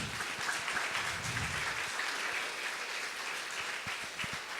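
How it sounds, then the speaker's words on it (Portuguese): Church congregation applauding during a sermon, a sustained, even wash of many hands clapping, filling the room at moderate distance with a few sharper individual claps. "Aplauda ao Senhor."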